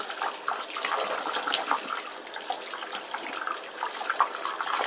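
Running tap water rinsing makeup brushes in a sink, a steady hissing stream with faint splashes as the bristles are worked through it, close and continuous, no talking.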